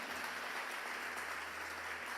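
A church congregation applauds during a service, a steady, fairly faint roar of clapping over a low constant hum, brief and unbroken.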